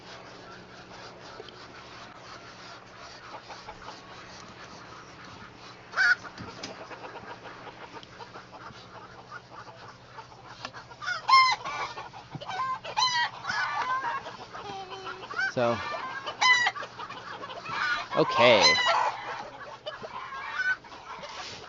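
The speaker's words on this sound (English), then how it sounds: "We got lots of ducks making lots of noises." Ducks and chickens in a farm coop cluck and call, quiet at first and then growing loud and busy with overlapping squawks close by; a person briefly speaks.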